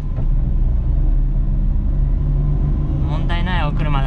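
A Suzuki Jimny JA11 with low mileage runs smoothly on a test drive, its engine giving a steady low rumble heard from inside the cabin, with someone speaking over it near the end.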